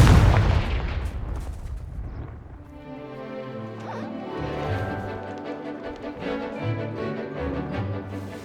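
The Confringo spell from the video game Hogwarts Legacy goes off with a loud booming blast at the start. A rumbling tail follows and fades under steady tonal background music.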